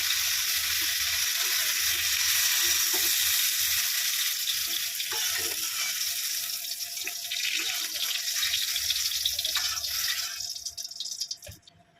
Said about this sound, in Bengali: বেগুনটা ভাজা হয়ে গেছে, বেশি ভাজলাম না, মানে হাফ ভাজলাম।